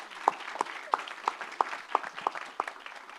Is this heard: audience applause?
yes